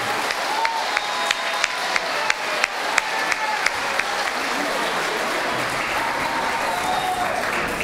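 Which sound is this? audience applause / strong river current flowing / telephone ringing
audience applause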